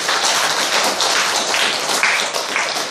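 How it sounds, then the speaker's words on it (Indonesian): A church congregation at St Mathias applauds for God, a steady, dense wash of clapping filling the room without a break. "Tepuk tangan buat Tuhan."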